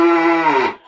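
A single cow moo from the FarmVille 2 farm game: one close, loud, drawn-out bovine call under a second long, heard alone.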